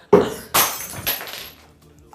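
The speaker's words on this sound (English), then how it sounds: "I can't believe that I broke a glass." A glass cup shatters close by: a sharp crash followed by two more bursts of breaking and tinkling fragments, with nothing else around it.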